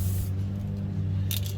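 A spray can hissing onto the carpet of a G-body Cutlass, two short bursts, the first fading out and a brief second one near the end, close over a steady low hum.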